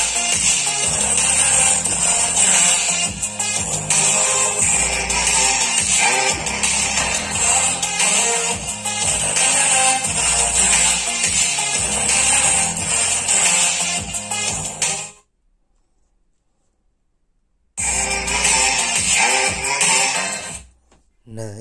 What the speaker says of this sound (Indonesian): itu tadi suara yang dihasilkan oleh crossover pasif ini